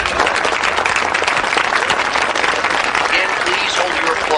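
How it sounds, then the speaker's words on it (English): Audience applause at a school awards ceremony, a dense continuous wash of clapping from a crowd, loud and steady throughout. "Again, please hold your applause until"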